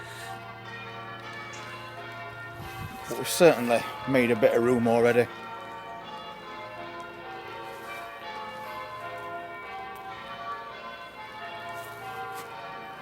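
Church bells ring at an allotment in the UK, a steady harmonic peal that swells loudly for a couple of seconds mid-clip, with someone speaking over the ringing.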